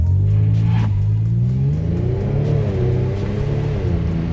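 2022 Genesis G70 accelerating hard, a loud, close engine roar rising steadily in pitch with a deep rumbling exhaust throughout.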